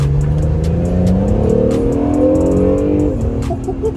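Acura NSX engine revving up loudly and continuously, pitch climbing steadily across the clip before dropping back near the end, close and dominant with no talk over it.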